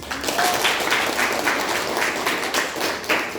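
A classroom of students gives a round of applause, close and loud, with the clapping falling into a loosely rhythmic, pulsing pattern throughout.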